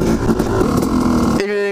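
A motorcycle in first gear revs hard as the clutch is released to lift into a wheelie, a loud, rough, close engine roar that settles into a steadier tone near the end.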